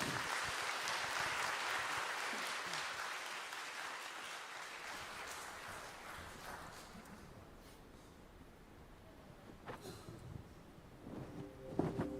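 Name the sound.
audience applause welcoming a church choir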